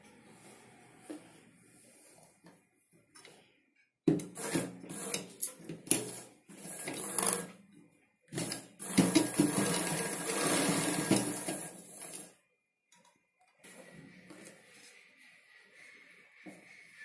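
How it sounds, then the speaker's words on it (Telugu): A sewing machine stitches a straight line on a Punjabi dress pant, with two loud whirring runs of several seconds separated by pauses and quieter handling of fabric before and after. "ఈ విధంగా 1 ఇంచ్ ని స్ట్రైట్ గా స్టిచ్ చేసుకోవాలి."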